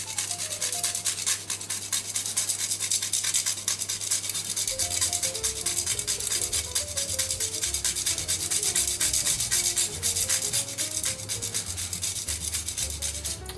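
A tonka bean is rasped across a fine grater for a vanilla tonka financier, giving a steady close scratching that continues with no gaps.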